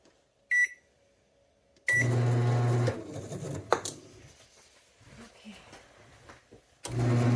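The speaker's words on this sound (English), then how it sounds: "This is a 2-pound traditional style automatic bread and dough maker from West Bend." A West Bend 2-pound traditional automatic bread and dough maker starts up with a low, steady motor hum and kneading rumble after a short beep, running loud for about a second before settling into quieter mechanical churning and clicks, then surging again.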